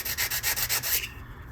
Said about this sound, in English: So now it's a lot of sanding, final sanding on the edges here to get it flush